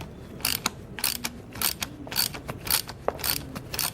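A ratcheting puller being cranked to pull the clutch off an AC compressor from an LT1 Caprice: repeated sharp mechanical clicks in uneven bursts, close and fairly loud, with no talking.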